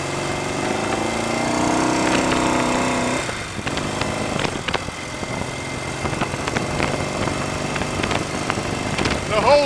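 A Royal Enfield Interceptor 750 Series 2 twin with a suspect clutch, heard on a test ride: a steady engine drone that drops away after a few seconds, leaving lighter engine noise and clicks with someone talking over it.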